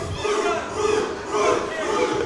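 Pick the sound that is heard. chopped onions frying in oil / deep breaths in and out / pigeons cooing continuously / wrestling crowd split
wrestling crowd split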